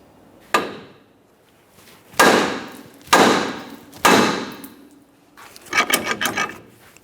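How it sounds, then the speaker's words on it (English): Hammer striking a steel steering knuckle on a 2004-2008 Ford F-150 to separate the ball joint, four sharp metallic blows with ringing decay, followed by a quick rattling burst. "Otherwise, go ahead and use your hammer."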